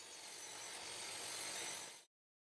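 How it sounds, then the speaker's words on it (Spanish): A saw cuts a wooden floating-shelf structure at a 45-degree angle, a steady, loud rasping cut that runs continuously for about two seconds and then stops abruptly. "Así que vamos a cortar eso. También la vamos a cortar 45 de las cuatro caras."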